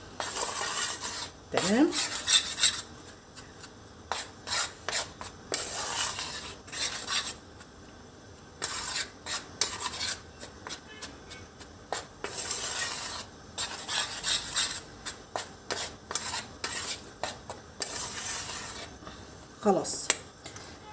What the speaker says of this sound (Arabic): هقلب بقى كويس كده جدا، خليط كله مع بعضه كده، النشا مع الدقيق مع معلقة الايه البيكنج صودا